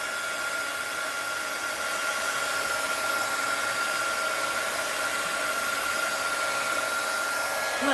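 Steady, continuous roar of a heat gun blowing hot air to dry a doll, close and unbroken for the whole stretch with no voices.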